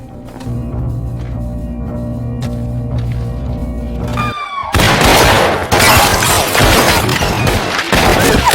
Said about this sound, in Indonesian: ada satu pria yang membawa sepucuk pistol, hingga baku tembak pun tak terelakkan lagi